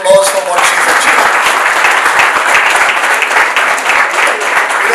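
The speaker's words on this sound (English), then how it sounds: "she deserves another round of applause for what she's achieved" Loud, close applause from a book release event audience, many hands clapping in a dense continuous burst that starts after a brief voice and holds steady to the end.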